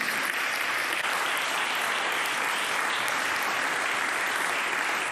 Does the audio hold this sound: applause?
yes